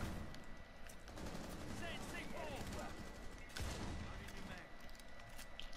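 Dense, continuous video game gunfire with rapid overlapping shots in a shooter match, fairly steady in loudness and heavier around the middle, with voice chatter mixed in underneath.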